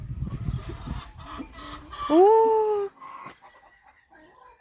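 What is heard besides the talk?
chickens clucking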